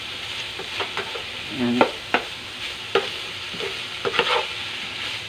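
Garlic, onion and ginger frying together in a pan, with steady close sizzling broken by repeated scraping and stirring knocks from a utensil.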